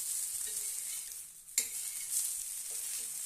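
A sorghum dosa cooks on a hot pan, giving a soft, steady hiss throughout with one brief clink of a utensil midway.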